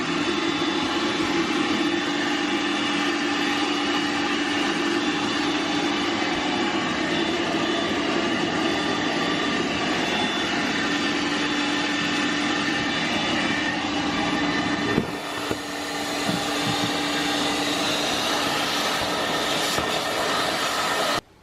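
Workshop floor sweep dust collector sucking up sawdust and foam: a loud, steady roaring airflow with a constant low hum, and a brief rattle of debris being drawn in partway through before the roar continues.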